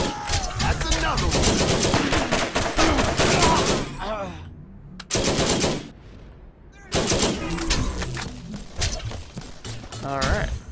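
Rapid bursts of automatic turret gunfire in the video game Borderlands, loud dense rattling volleys broken by short pauses, with game voices and effects mixed in.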